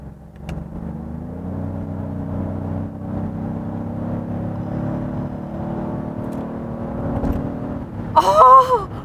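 A Genesis GV80 3.5 turbo with an eight-speed automatic in sport mode accelerates hard, its engine drone heard steadily from inside the cabin and climbing in pitch before an upshift and a brief louder surge near the end.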